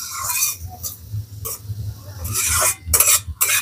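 Ginger and garlic frying with carrots in a pan: short bursts of sizzling and stirring scrapes that start and stop over a low background hum.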